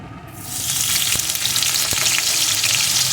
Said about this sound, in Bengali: আলুগুলো প্রথমে সুন্দর করে ভেজে নেব।